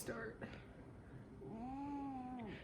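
An unhappy Ragdoll cat meows loudly during subcutaneous fluid treatment: a short cry early on, then a long drawn-out, wavering meow near the end, close up over steady room noise.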